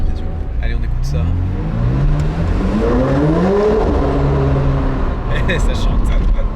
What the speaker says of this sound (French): c'est pas si dérangeant d'entendre un petit peu ces décharges de turbo, c'est sympa